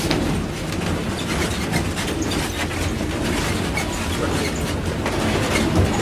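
A train rolls steadily along the rails, with continuous clickety-clack wheel noise and rumble, loud and close throughout with no talk.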